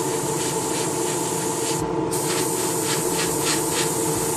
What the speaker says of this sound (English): I'm practicing with the new airbrush.